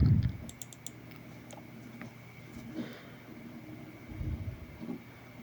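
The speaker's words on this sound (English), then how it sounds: "So let me double click it." A few quick, faint clicks of a computer mouse double-clicking a desktop icon, sharp and close in an otherwise quiet room.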